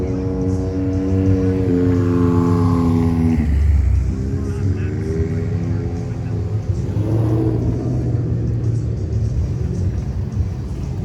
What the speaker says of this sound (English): Little Hellcat action.